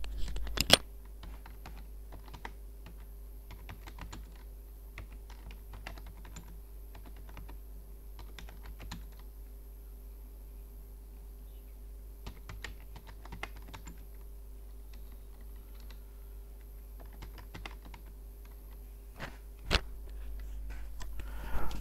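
Faint typing on a computer keyboard while working in a spreadsheet, scattered soft key clicks over a steady low hum, quiet and alone.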